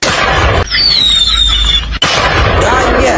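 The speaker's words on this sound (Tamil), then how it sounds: "பட்டாசு இங்க வெடிக்காத" Diwali firecrackers bursting nearby, a loud broadband crackle with a high whistling tone that falls in pitch, then a sharp burst, with voices talking throughout.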